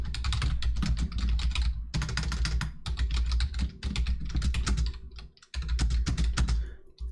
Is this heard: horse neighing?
no